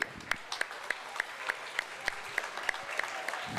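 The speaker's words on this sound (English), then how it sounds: "How about a hand for the winner of race 3?" A crowd at a harness race applauds the race winner, steady moderate clapping with distinct sharp claps standing out at an even rhythm, fairly quiet and distant-sounding.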